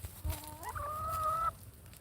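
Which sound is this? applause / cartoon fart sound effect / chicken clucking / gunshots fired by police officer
chicken clucking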